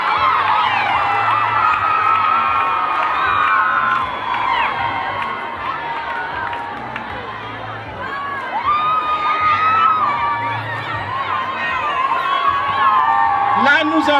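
Students cheer, shout and whoop at a school ceremony installing the 2025 student committee, a loud crowd din that swells and fades throughout, with an amplified voice speaking over it.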